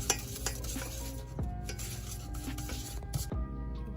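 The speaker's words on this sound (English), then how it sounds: "I'm gonna mix this with my chopsticks to make sure that it doesn't burn." Chopsticks stir sugar melting in a pan, with steady scraping and light clinks against the pan over a soft sizzle, close and moderately quiet with no talking.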